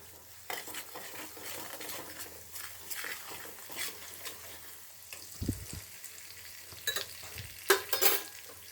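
Puliyogare tempering, made with chili powder, sizzles and fries steadily in a pan. A spoon stirs it now and then, and pot clatter and scraping come through close by with no one talking.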